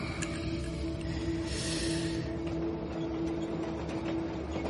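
Train travelling toward Washington as a radio drama sound effect, a steady rolling rumble with a sustained tonal hum and faint rhythmic clatter, continuous and close, with no voices.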